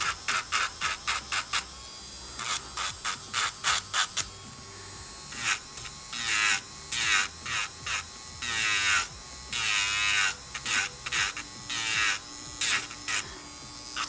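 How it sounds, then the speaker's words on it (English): Electric nail drill buffing a polygel nail, a close buzzing whine in short repeated bursts with pauses, then longer stretches of steady grinding. "just give it a good buffing"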